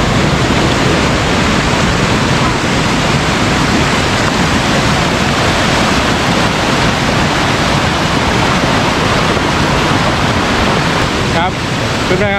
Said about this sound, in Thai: ตอนนี้ผมก็อยู่ที่น้ำตกนะฮะ